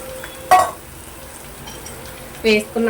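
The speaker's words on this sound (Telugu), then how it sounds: "ఇప్పుడైతే మంచిగా ఇలా కట్ చేసుకొని కలుపుకోవాలి" Boiled beef brain being cut and stirred into fried onion masala in a pan: a few separate clinks of utensil against the pan, near and moderately loud, over a faint background hiss.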